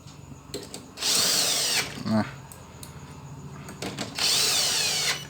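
An electric screwdriver whirs in two short bursts, tightening screws on a Toshiba 40-inch TV under repair, close and sharp, with clicks and handling noises between the runs and a voice speaking in the background.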